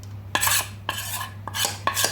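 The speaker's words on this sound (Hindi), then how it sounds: "तो मिक्सी में से सारे दाल को इसमें डाल लीजिए।" Coarsely ground dry moong dal scraped and poured from a mixer jar into a vessel: four separate bursts of scraping and clinking, close and fairly loud, with short pauses between them.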